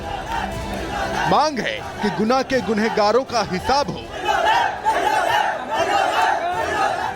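An angry Hindu protest crowd on the streets of Guna, after violence on Hanuman Jayanti, shouts and chants in loud rising cries, while a news reporter speaks over the din.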